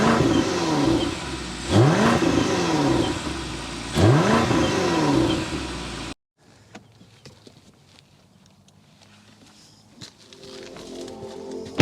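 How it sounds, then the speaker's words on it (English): A 2025 BMW X5 M60i's twin-turbo V8 revs loudly through its exhaust in repeated rising and falling bursts, then cuts off abruptly to near quiet with faint clicks and rustles. "I need to go inside and start it up so you can hear that exhaust though"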